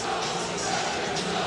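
A basketball arena crowd at Tennessee vs Alabama voicing displeasure over a foul, a steady loud wash of booing and murmuring that fills the space without pause.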